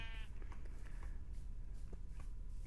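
A sheep in Minecraft bleats once near the start, faint under a dense, noisy game soundscape with shuffling and footstep-like sounds throughout.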